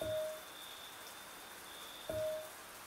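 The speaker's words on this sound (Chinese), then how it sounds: "雨好像下得很大，明明气象预报都说不会下雨的。" Heavy rain in a Chinese RPG video game, a faint, even patter of falling rain across the whole stretch, with two short tonal chimes standing out over it.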